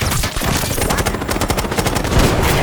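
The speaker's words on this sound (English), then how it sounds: "God damn, we're taking fire!" Rapid, loud automatic gunfire fills a Call of Duty Black Ops 6 firefight during the Pantheon defenses sabotage mission, dense overlapping bursts rattling continuously without a break.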